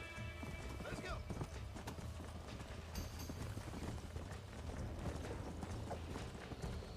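Hooves clip-clop at a steady gallop on a cream-coloured horse in the Western video game Red Dead Redemption, dense and continuous across the clip with game music and ambience layered over them, and a brief whinny partway through.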